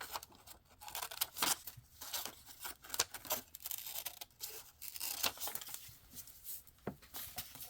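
Paper being cut by hand close up, a dense run of crinkly snipping and tearing rustles in uneven bursts, with no voices.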